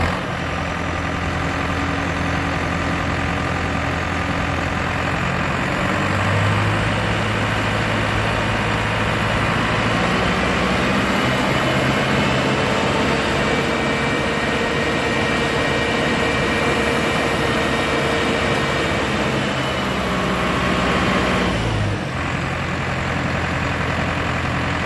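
A steady, rumbling 2009 New Holland T5060 tractor engine idles continuously at close range, a low droning hum with a brief shift in tone near the end.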